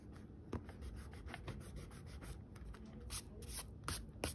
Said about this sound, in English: you'll just want to erase.